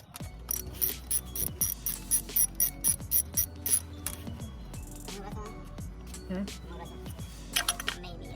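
Ratchet clicking in repeated bursts while loosening bolts on an Acura Integra B18/B20 engine bay during intake manifold removal, close and fairly loud, with brief low metallic clinks between runs.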